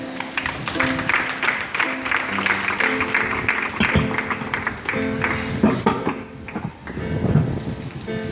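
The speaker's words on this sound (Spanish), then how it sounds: "Dale palmas a Rey." Churchgoers clap along during a church service, a dense, rain-like patter of many hands mixed with music and singing, swelling and easing over several seconds.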